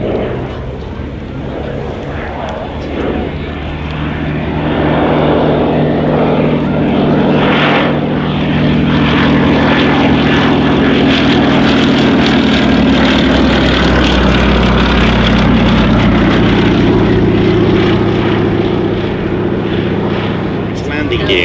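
A Westland Lysander, an Army cooperation propeller aircraft, drones steadily at an air display. The engine noise is loud and continuous, swells slightly after the first few seconds and holds, with a commentator's voice over the top.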